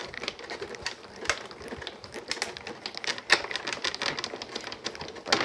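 A Platinum die cutting machine runs a cutting plate through its rollers in a steady, close mechanical whir with small clicking ratchet-like ticks, heard alone with no talk.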